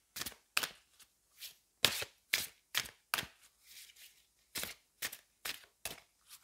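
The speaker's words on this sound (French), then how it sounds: "on va prendre une carte du gothique." A card is drawn from a gothic-themed tarot deck, heard as a series of quiet, close, crisp slaps and sliding flicks spaced irregularly over several seconds.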